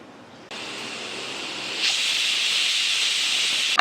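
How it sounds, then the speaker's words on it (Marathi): A pressure cooker of spiced masale bhat rice lets off a sharp, loud hissing whistle of steam that starts abruptly and builds, holding steady close by until a sudden release at the end. "आपण भाताला 3 शिट्ट्या घेऊ."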